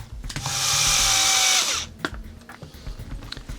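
A power drill drives screws into a 3D-printed part. The motor whines steadily for about a second and a half, then cuts off, followed by a few handling knocks and clicks nearby.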